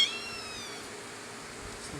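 A kitten lost in Hurricane Irene gives a brief, thin meow right at the start, close by, then quiet room noise follows.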